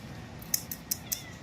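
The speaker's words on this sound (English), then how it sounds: "You have a really high-pitched meow" A black cat gives a few short, high-pitched meows in a quick irregular series, close by and fairly quiet over low room background.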